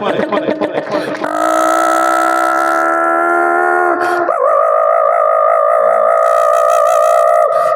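A voice mimics an auto rickshaw, a steady buzzing engine drone with a horn-like tone, loud and continuous for several seconds after a brief rattling start.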